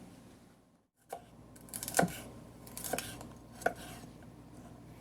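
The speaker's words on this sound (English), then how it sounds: "So we'll get started on the salad chopping." A few sharp knife chops on a cutting board, chopping vegetables for a salad, spaced irregularly against a quiet background.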